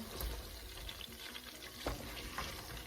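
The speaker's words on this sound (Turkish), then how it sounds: "Nuggetların e, diğer e, tarafı da 4 dakikadır kızarıyor. Şimdi şöyle bir bakıyorum, karıştırıyorum." Ready-made chicken nuggets frying in hot oil in a pan and being stirred, a steady close sizzle with a faint scrape near the two-second mark.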